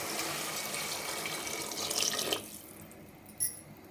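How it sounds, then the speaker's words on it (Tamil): Water running from a tap into a cooking pot for tomato rice, a steady close splashing stream for about two seconds that then cuts off, leaving faint drips and a brief clink. "இப்போ நம்ம தேவையான அளவு தண்ணி சேர்த்துக்கலாங்க"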